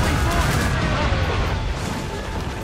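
Cannon fire booms continuously during a naval battle in Assassin's Creed Rogue Remastered, a dense, loud rumble of overlapping blasts and shots with shouting voices mixed in.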